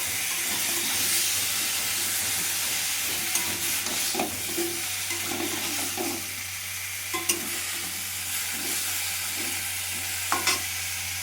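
Ginger and onion paste with salt frying in a pan, a loud continuous sizzle and hiss close up, punctuated by intermittent scraping and stirring knocks of a utensil against the pan.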